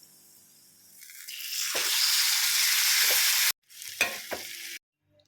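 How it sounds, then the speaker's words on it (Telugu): Boiled dal made with star fruit is poured into a hot tempering with asafoetida, the sizzle swelling loudly for a couple of seconds, cutting off, then flaring again in short bursts before fading. "మనం ఇప్పుడు ఉడకబెట్టి పెట్టుకున్న పప్పుని ఇందులో వేసేద్దాం"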